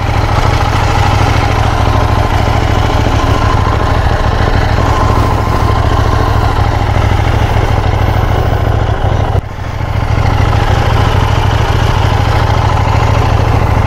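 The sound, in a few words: KTM Duke motorcycle engine running rough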